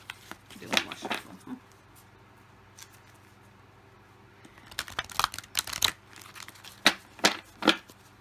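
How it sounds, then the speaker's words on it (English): Several quick riffling bursts of cards being shuffled, a short one early and a cluster of louder flutters later, with quiet pauses between. "Do one more shuffle."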